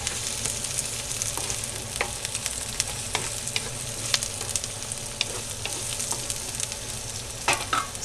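Thinly sliced shallots crackle and sizzle steadily in hot oil as they fry toward crispness for a Kerala-style beef curry, with occasional stirring scrapes over a continuous dense hiss and no voices.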